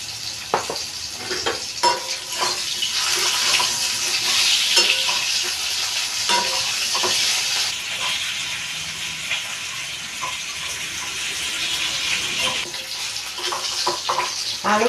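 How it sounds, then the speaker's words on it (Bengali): Potatoes with a pinch of salt frying in oil in a pan keep up a loud, continuous sizzle, with repeated scraping and stirring clicks from a spatula over the top. "এবার আলুগুলো ছেড়ে দেবো, দিয়ে এটা একটু ভেজে নিই"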